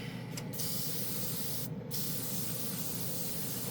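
A Dspiae airbrush sprays primer in a steady hissing stream, with two brief pauses in the spray, close and continuous.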